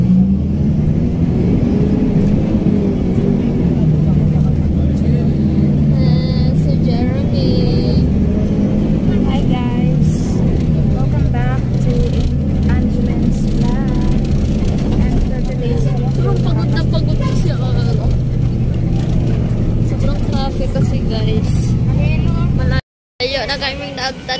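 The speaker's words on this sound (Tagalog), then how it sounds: "Nandito kami sa bus, guys." Inside a bus crawling through heavy traffic, a loud steady engine drone and road rumble dominate, with shifting motor tones and occasional passing vehicle sounds throughout; a short dropout near the end.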